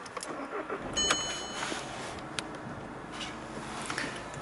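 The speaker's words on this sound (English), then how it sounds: "Let's get the car started." An Audi A3 1.6 TDI Sport convertible diesel car engine starting, a brief crank and catch settling into a steady mid-range idle rumble, heard fairly close over background noise.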